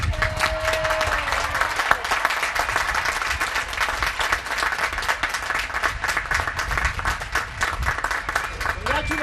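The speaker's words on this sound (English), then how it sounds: "how about a big applause for all the graduates today?" A crowd at a university commencement claps for the graduates in a long, dense round of applause with individual claps standing out, steady throughout with some voices underneath.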